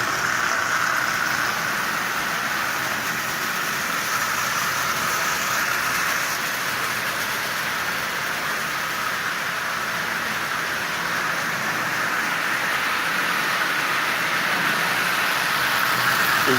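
A Marx 400 toy train locomotive, rebuilt and repainted in hammered metallic pewter, runs steadily at 40% power while pulling 20 tin litho cars, giving off a continuous, even whirring rumble with no voices over it.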